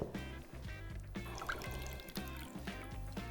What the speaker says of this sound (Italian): strizzo leggermente senza forzare troppo per togliere il liquido, l'acqua in eccesso